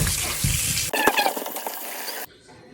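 Fresh ginger washed under running tap water while cooking, a steady close splashing rush that breaks into lighter trickling, then cuts off abruptly near the end.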